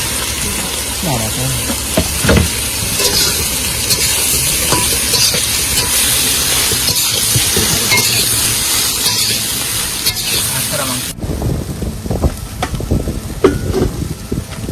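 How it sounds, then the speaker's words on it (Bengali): Soybean chunks fry in a little hot oil on an outdoor stove, giving a steady close sizzle and hiss that runs throughout, with stirring clatter and some nearby activity toward the end. "তেল গরম হয়েছে, সয়াবিনটা ভেজে নিই।"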